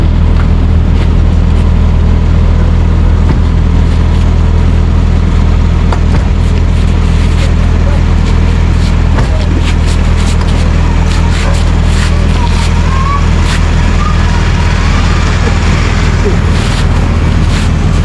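A loud motorcycle engine runs steadily close by, a constant low rumble with wind-like noise over it and occasional faint voices.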